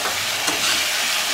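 Spices are stirred in a pan with a splash of water, making a brief, loud, close, bubbling sizzle with stirring movement, and no voices are heard.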